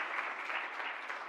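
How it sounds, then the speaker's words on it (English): An audience at a pilot launch event applauds a keynote address, a steady, even wash of many hands clapping, moderately distant and without talk over it. "can we give him a round of applause for that?"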